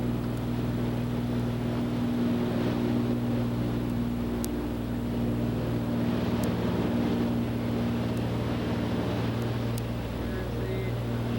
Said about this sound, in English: The barge is pushing the boat out of port.